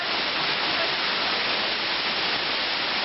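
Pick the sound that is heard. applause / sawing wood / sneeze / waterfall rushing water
waterfall rushing water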